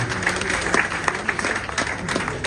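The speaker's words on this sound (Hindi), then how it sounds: "इसके लिए एक बार जोरदार तालियां दिनेश जी सोनी के लिए।" A gathering at a BJP Kota city event gives loud applause for Dinesh Soni, a brisk, dense patter of many hands clapping with sharper individual claps standing out, sustained through the short stretch.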